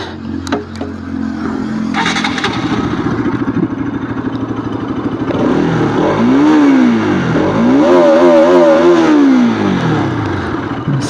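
Bajaj Pulsar RS200 BS6 motorcycle engine idling, then revving and accelerating hard through rising and falling sweeps, loud and close, with no talk.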